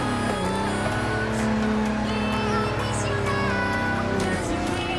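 Nissan 350Z street mod in a racing video game held flat out in fifth gear, a steady loud engine drone with layered harmonics running continuously, with faint talk underneath.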